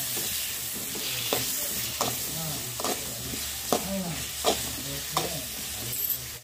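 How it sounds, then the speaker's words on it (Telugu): Cumin and coriander seeds fry in hot oil with a steady sizzle, and a spatula scrapes the pan at a regular rhythm, about once every second, close and clear. "ఆయిల్తో పాటు అలానే జీలకర్ర ధనియాలు కూడా వేసుకుని ఫ్రై చేస్తున్నాం"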